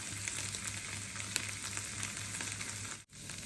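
Steady close sizzle of a stir-fry in a hot pan with oyster sauce and roti seasoning powder, continuous crackling frying with a brief momentary drop near the end and no voices.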